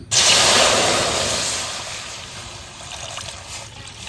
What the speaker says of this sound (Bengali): পানি দিয়ে দিই কড়াইয়ে